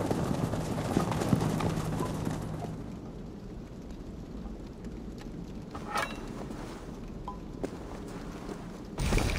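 Footsteps in Assassin's Creed Valhalla, heard as a quiet run of steady clopping treads under wind-like ambience, with a few faint knocks and a brief louder burst at the end.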